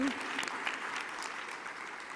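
Audience applause at the opening ceremony of an international book fair, a continuous hiss of many people clapping heard from a distance at an even, moderate level.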